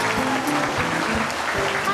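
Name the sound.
studio audience applause for Jack's Angel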